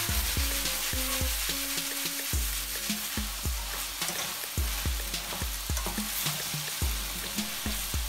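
Zucchini pasta with tuna and tomatoes sizzles steadily in a pan while being stirred, with repeated scraping strokes in a regular rhythm over a continuous frying hiss, close and fairly loud.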